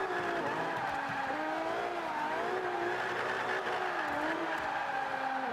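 A front-wheel-drive Toyota Celica drifts in Forza 5, its engine droning at high revs while tires squeal continuously, the pitch wavering as the car slides through a corner; no one talks.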